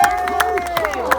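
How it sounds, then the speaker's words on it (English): A crowd at a dragstrip race cheers and claps in a short burst, with scattered sharp claps over a whistle-like tone and general crowd noise. "let's give it a round of applause"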